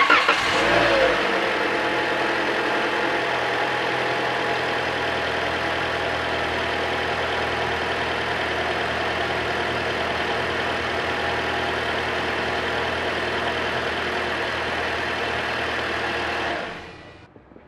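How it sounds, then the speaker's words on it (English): A 2016 Toyota Corolla engine cranks and catches, then settles into a steady, even idle that runs close and unbroken for about fifteen seconds before cutting off. "I'm going to go ahead and start it up now just to test it"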